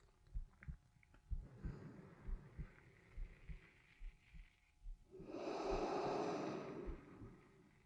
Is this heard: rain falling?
no